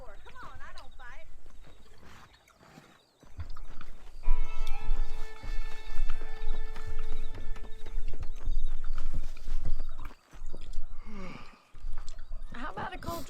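Horse riding in the video game Red Dead Redemption: steady clip-clop hoofbeats and a whinny under the game's background music, with voices talking over much of it.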